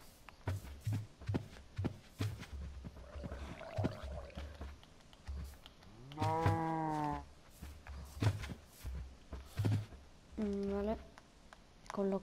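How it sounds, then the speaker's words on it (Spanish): Cows mooing in Minecraft, several drawn-out moos at moderate loudness over a steady rhythm of footsteps, with a closer moo near the middle and another near the end. "Otra vaca."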